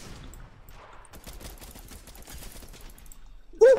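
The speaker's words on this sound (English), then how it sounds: "I hear them shooting." Rapid bursts of gunfire from a Fortnite Chapter 3 match, a steady crackle of repeated shots running through most of the stretch at moderate level before a sudden louder burst at the end.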